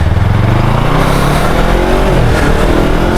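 A Yamaha R3 300cc motorcycle engine revs loudly and close, its pitch climbing steadily through the gears with a continuous buzzing roar and no voices.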